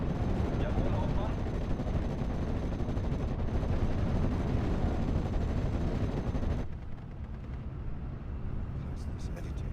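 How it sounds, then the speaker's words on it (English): Heavy booming reports from a German anti-tank gun in the WWII strategy game Steel Division 44, loud and sustained amid battle noise, then cutting to a quieter stretch, with speech over the top. "That's this anti-tank gun."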